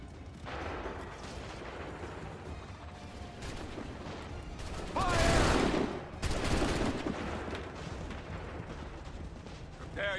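A musket volley fired by massed troops in Assassin's Creed III, at the Battle of Lexington and Concord: a loud crashing volley about halfway through, then a second burst, over a constant rumble of battle.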